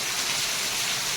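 Heavy rain pours down in a steady, dense, loud hiss that continues without a break, with no voices.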